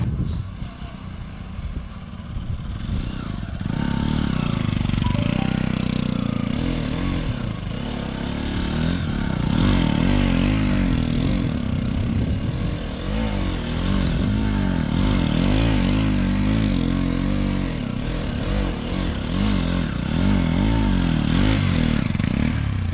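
A Bajaj Pulsar NS200 motorcycle ridden through a cornering test, its engine droning steadily close by for over twenty seconds with rising and falling revs and some rattling clatter, no voices.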